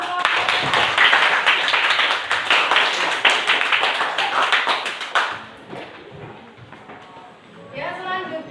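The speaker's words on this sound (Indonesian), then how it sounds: "Kasih tepuk tangan untuk kelompok." Participants in a teachers' coaching and academic supervision session applaud a presenting group, a quick burst of clear, distinct claps for about five seconds that stops abruptly, followed by a quiet pause and then a voice speaking.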